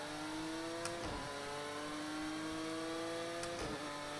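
Porsche 911 GT1 racing engine in Project CARS 2, a steady loud rev held at high pitch with two brief shift dips, with no talking.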